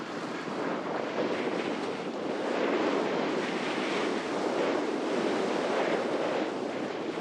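Strong wind roars across the microphone at a wingfoil spot, with waves and surf churning underneath in a continuous, loud, even rush and no voices.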